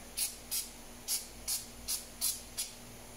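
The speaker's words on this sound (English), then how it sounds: "I'm going to spray a little bit of penetrant" Seven short, sharp hissing bursts of aerosol penetrant sprayed onto a ball joint of a GMC Sierra or Chevy Silverado, evenly spaced and fairly close, against a quiet background.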